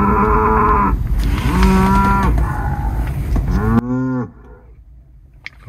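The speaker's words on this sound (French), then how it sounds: "Fais la vache." Several drawn-out cow moos played by the voice assistant of a 2023 Mercedes C 300e, loud and close, one after another, the last cut off abruptly, leaving quiet background.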